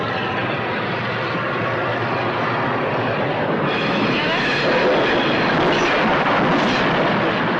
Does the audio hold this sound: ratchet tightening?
no